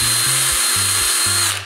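A power drill whines steadily and loudly up close, its motor pitch shifting as it bores into wood, then cutting off at the end.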